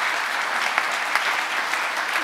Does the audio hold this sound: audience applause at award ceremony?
yes